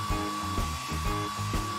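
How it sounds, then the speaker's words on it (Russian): Hair dryer blowing from a multifunction household robot, a close steady motor whine with a fixed high tone and pulsing airflow surges, nobody speaking. "Нажимаешь нужную кнопку, и он превращается в фен."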